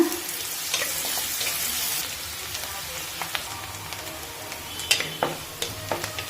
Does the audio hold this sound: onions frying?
yes